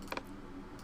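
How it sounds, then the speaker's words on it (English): A couple of quick keystrokes on a computer keyboard click close by, followed by a brief pause and another tap, over faint room hum. "So when I'm typing, like here I am in TextEdit,"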